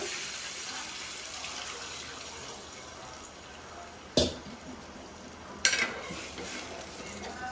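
Tomato rasam goes into a hot pan with a low, steady sizzle and bubbling. Two sharp clanks of a utensil against the pan stand out midway.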